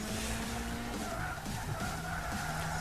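A Renault race car in Gran Turismo 6, racing against Ford Mustangs, screeches with skidding tires over a steady engine drone, fairly faint and continuous throughout.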